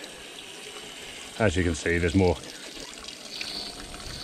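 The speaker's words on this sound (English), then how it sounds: "there's more coolant coming out." Coolant running out of a 1998 Suzuki GSXR750 radiator during a flush makes a continuous pouring trickle, with someone speaking briefly over it.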